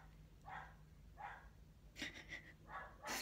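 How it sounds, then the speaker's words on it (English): A dog barks downstairs at the mailman, a few muffled, distant barks in short bursts spaced across a quiet indoor room. "I think it's Gemini's video he started barking in."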